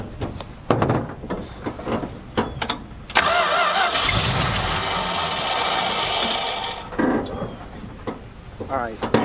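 An old 1972 Dodge car engine cranks and catches, then runs roughly for a few seconds before faltering, with people talking around it.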